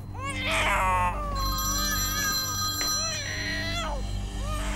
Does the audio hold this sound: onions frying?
no